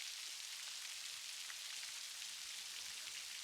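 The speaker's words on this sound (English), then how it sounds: "listen to the rain falling on the water's" Steady rain falls on the water surface of a rainforest stream, a dense, even hiss of countless droplets, soft and continuous with no voices or other sounds.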